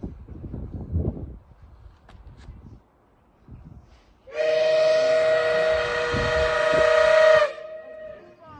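Faint rumbling and clanks at a train depot give way to a loud, sustained train whistle blowing for about three seconds, then fading.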